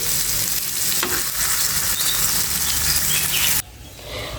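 Green chilies frying in a pan of oil for sweet pumpkin fritters, a loud dense sizzle with stirring scrapes that drops away abruptly near the end, no voices.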